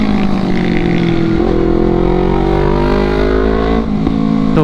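A Honda CBR250RR motorcycle roars loud and close while being ridden, its engine note climbing steadily under acceleration with a brief dip near the end before pulling again, no talking over it.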